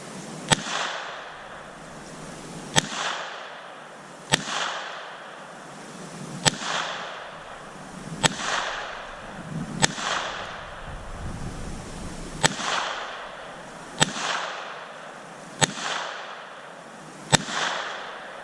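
A Smith & Wesson Victory .22 pistol fires at a range, about a dozen sharp, evenly spaced shots, each with a short echoing tail.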